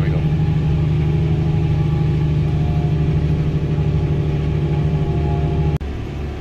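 A 1050 tractor pulls a Dagelman Protill tillage tool, its engine holding a heavy, steady low rumble under load, loud and close throughout before a brief dip near the end.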